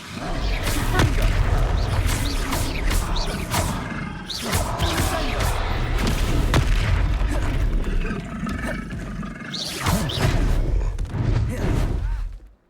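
Confringo spell explosions in the Hogwarts Legacy video game, heavy booming blasts and thuds one after another with crackling debris, loud and near, mixed with battle effects.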